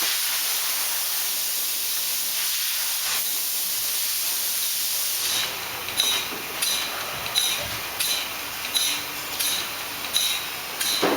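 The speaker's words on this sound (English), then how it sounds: "so now we'll close the valve. Now the pump's filling up" A pump fills up after its valve is closed, giving a steady hiss, then from about halfway a run of regular pulsing surges, each a short rhythmic burst over a continuous background noise.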